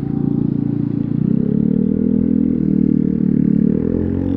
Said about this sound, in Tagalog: Tsaka narinig mo rin na may fan ganun.